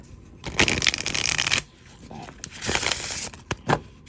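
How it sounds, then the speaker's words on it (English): Glossy tarot cards are riffled and shuffled in two quick bursts, close up, with a few short crisp card snaps between them. "Shuffles nicely. Very slippy."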